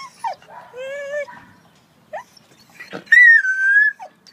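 A dog in a kennel at a city animal shelter gives several high, wavering whimpers and whines, loud and close, separated by brief quiet pauses.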